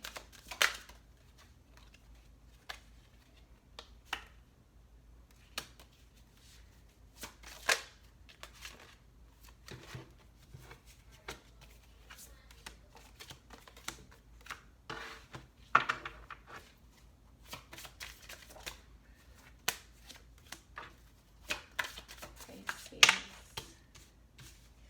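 Tarot cards being shuffled by hand, soft papery riffles and taps coming in scattered bursts over a quiet room, close and faint, with no talking.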